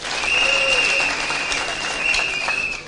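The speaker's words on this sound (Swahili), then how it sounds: "makofi" Crowd at a Kenyan Azimio political rally breaks into sustained loud applause and cheering, a dense wash of clapping that swells and lingers for a few seconds with shouting mixed in.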